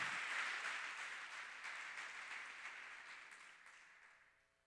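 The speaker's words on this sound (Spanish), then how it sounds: "Dale fuerte ese aplauso al Señor." A church congregation applauding the Lord, dense sustained clapping that starts loud and gradually fades away over a few seconds.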